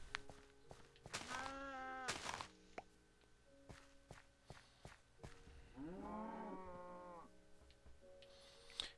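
Cows in Minecraft give two drawn-out moos, one early and one midway, with soft footsteps and faint game sounds between them at low volume.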